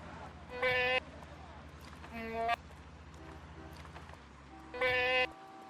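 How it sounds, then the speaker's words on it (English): Goats bleating in the video game Tropico 3: three separate loud, wavering bleats spaced a couple of seconds apart over a low steady background hum. "Why am I hearing the goats from up there?"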